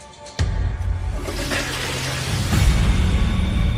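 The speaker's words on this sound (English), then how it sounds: "you can hear the toilet flushing in the background." Toilet flushing in the background of a 911 emergency call recording, a sudden onset followed by a sustained rushing, gurgling water noise that swells slightly toward the end, with no speech over it.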